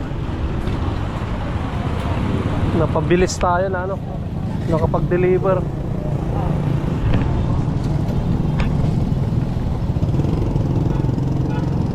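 A borrowed motorcycle riding through road traffic, a steady loud engine drone and road rumble throughout, with someone talking over it partway through and brief higher tones cutting in near the middle.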